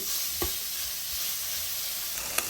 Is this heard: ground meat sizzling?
yes